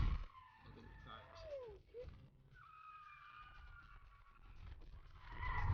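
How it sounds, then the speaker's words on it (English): A car drifting on a road, tires squealing in long wavering screeches that rise and fall, fairly faint and distant with a low rumble beneath and quieter stretches between. "That was an A+ drift right there."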